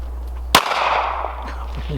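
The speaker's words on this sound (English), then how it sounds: "Let's shoot the modern helmet" A single close gunshot fired at a modern German military helmet, a sharp crack with a short ringing tail over steady low background hum.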